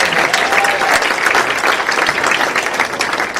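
An audience at a water safety award ceremony claps together in a loud, sustained burst of applause that carries on steadily to the end.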